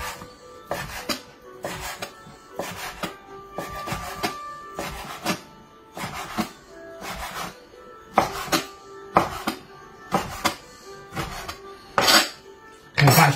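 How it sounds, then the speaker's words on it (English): Bacon being chopped finely with a knife on a chopping board, a steady run of sharp, close knocks and scrapes in irregular bursts, with no talking. "just chop it up just fine."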